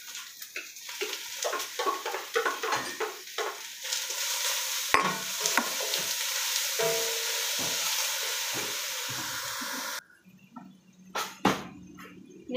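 Ground onion frying in a pan with a continuous close sizzle and repeated stirring scrapes, dropping to quieter, scattered clatter near the end.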